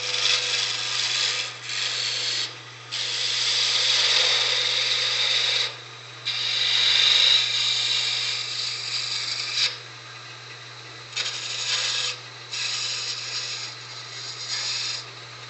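Wood being turned on a lathe with a gouge while shaping a wooden Christmas ornament, a steady raspy cutting hiss that starts and stops in bursts over the motor's constant low hum.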